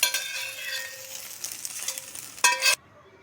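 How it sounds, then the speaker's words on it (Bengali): Eggs scrambled in a hot frying pan sizzle steadily while a utensil stirs and scrapes. A louder burst of scraping comes just before the sizzle cuts off abruptly into near silence. "ডিমটাকে আমি স্ক্রাম্বল করে নিচ্ছি।"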